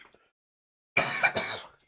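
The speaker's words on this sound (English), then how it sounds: "Apologies, bit of a coughing fit there." A person coughs in a short, loud burst of several hacking coughs after a moment of near silence, close to the microphone.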